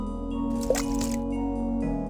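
Water from a sacred pool drips in the video game King's Quest 6, giving a single soft squishy drip over a steady hum of game music.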